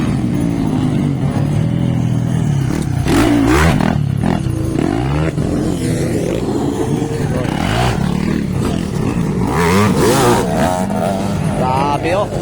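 Racing motorcycles, 85cc or 150cc machines against a KMX, roar past in a ladies' final, engines rising and falling in pitch as they pass, under excited commentary and crowd noise.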